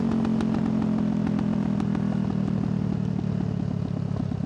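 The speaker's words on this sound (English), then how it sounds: "Listen to that exhaust growl, man. This model bike sounds like an angry vacuum cleaner stock, but this Yoshi exhaust pops." Motorcycle fitted with a Yoshimura exhaust, revving close and loud with a rapid clattering growl and sharp pops, an uninterrupted engine roar with no talking over it.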